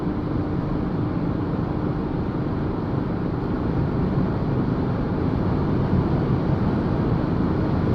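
Toyota Hilux SRV 3.0 diesel pickup at full throttle around 160–170 km/h on a highway, a steady broadband engine and road roar heard from inside the cab, loud and continuous with no talk.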